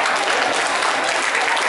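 Audience applause at a Tainan business association's president handover and board installation ceremony, a dense burst of clapping from a room of people, loud and continuous.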